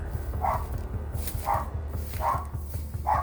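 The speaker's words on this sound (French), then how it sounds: "qui peut expliquer les aboiements d'Olaf" A small dog named Olaf barks four times in an even rhythm, the barks mid-distance and moderately loud over a low outdoor background hum.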